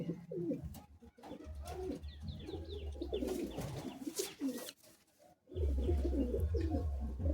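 Madrasi pigeons cooing at a breeder's home, with several low rolling coos overlapping close by, a brief lull and then a louder burst of cooing.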